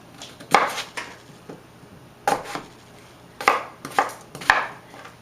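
A knife chops potatoes into big chunks on a board for curry, with sharp cuts landing in quick clusters of two or three, close by and fairly quiet, and no talking.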